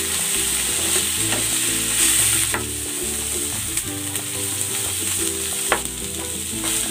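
Pork ribs and onion sizzle steadily in a hot pan, and intermittent clinks and scrapes of stirring sound close up. No one talks.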